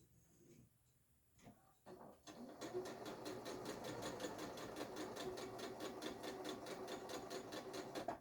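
Sewing machine stitching small fabric doll pieces: a few quiet clicks and handling sounds, then a steady, rapid stitching run that continues to the end, close but fairly soft, with no talk.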